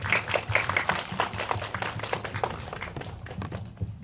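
Audience clapping to welcome a short-film actor at a Seoul international ultra-short film festival Q&A, a brisk scatter of hands from a small seated crowd that thins out over a few seconds.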